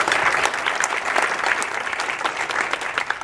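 Audience applause at a back-to-school day event honoring a merit-based scholarship program, with steady dense clapping from a crowd filling the room throughout, loud and continuous with no talk over it.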